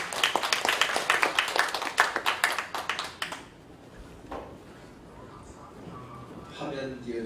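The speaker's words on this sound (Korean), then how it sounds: "나오실 때 힘차게 박수하시겠습니다." At a church symposium in Incheon, the audience gives a dense round of clapping as a pastor comes forward, fading out after about three seconds into quiet room noise and a voice.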